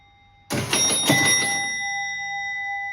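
The big bell of a 1967 Gottlieb Diamond Jack pinball machine strikes twice in quick succession, loud and close in a garage, then rings out and decays slowly.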